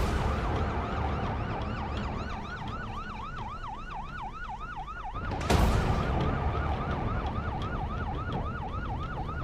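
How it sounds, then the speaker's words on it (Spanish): A Colombian police patrol car's siren wails in a fast, steady up-and-down cycle over road and engine noise, with a brief loud whoosh partway through as the vehicle moves along. "En una patrulla de la policía, de inmediato Yesid tomó rumbo a la vereda."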